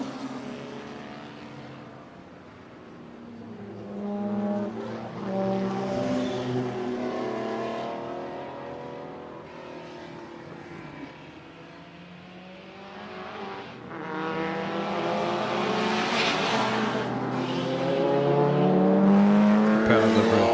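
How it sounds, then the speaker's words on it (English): A Lancia Beta Monte Carlo turbo race car's engine roars close by, its revs rising and falling in harsh waves throughout with no pause. "power delivery on those Lancia Vita Monte Carlo turbos is fairly savage."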